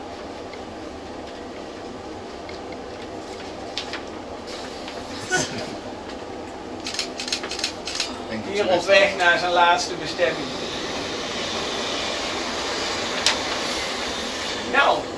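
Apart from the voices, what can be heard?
electric passenger train passing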